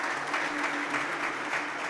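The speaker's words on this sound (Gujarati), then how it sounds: "એને આપણે તાળીઓથી વધાવવા છે" An audience at a talk applauds steadily, a dense, even patter of many hands clapping that continues without pause, fairly soft and somewhat distant.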